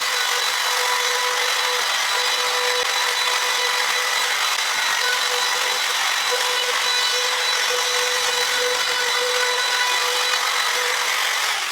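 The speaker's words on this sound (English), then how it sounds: "set up the laminate trimmer with a bead cutting, flush cutting bit" A laminate trimmer with a flush-cutting bit whines continuously at close range, trimming panel edges, a steady high-pitched cutting noise running throughout without pause.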